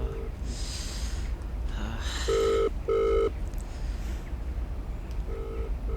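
An electronic telephone ringtone in a Telugu horror short film, with short repeated tonal beeps in a few bursts over a low background hum.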